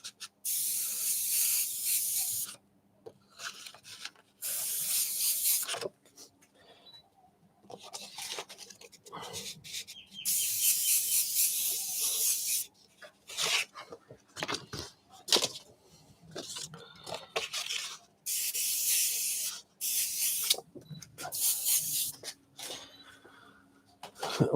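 An airbrush sprays paint over a stencil in repeated hissing bursts of a few seconds each, separated by pauses with faint handling noises, fairly close and steady during each pass.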